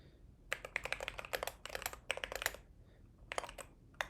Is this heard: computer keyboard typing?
yes